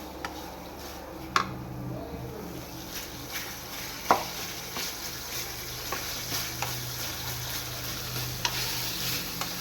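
Chicken masala fries in hot oil with a constant close sizzle, broken now and then by sharp clicks and taps from stirring in the pan.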